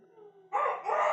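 A voice imitates a rooster crowing at dawn during a Friday church prayer meeting, rising into a loud, strained, drawn-out call after a softer lead-in.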